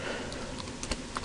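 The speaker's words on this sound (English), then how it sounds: "in this paragraph we're going to type in par1" Fast keyboard typing on a computer keyboard during HTML coding, a quick irregular run of close clicky keystrokes with no talking.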